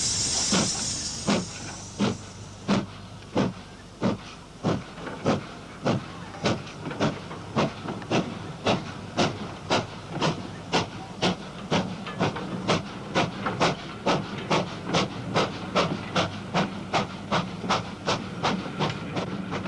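A modified Hall steam locomotive, 6996, chuffs steadily away with a train, its exhaust beats evenly spaced and gradually quickening, with a hiss of steam at the start and a constant rumble beneath.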